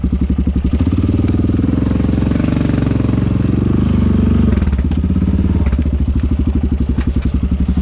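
A Polaris Sportsman ATV engine chugs loudly and close in a muddy swamp, a rhythmic, pulsing low throb that rises briefly in revs as it pulls forward, then settles back to a lumpy running beat.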